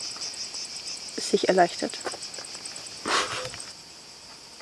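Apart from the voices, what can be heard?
grasshopper chirping inside a car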